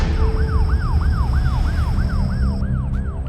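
A wailing ambulance siren sweeps up and down in a steady, repeating cycle, loud and close, over a constant engine-like rumble, with no voices.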